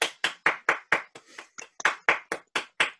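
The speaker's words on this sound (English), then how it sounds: "have a clap and say goodbye to each other" Crisp, close hand clapping from people saying goodbye at an online meeting, about a dozen sharp claps in an uneven rhythm with brief softer noise between them.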